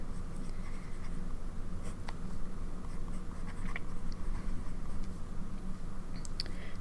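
Nib of a TWSBI 700R fountain pen with a medium nib scratching across paper, faint close scritching strokes in short bursts over a low steady background hum.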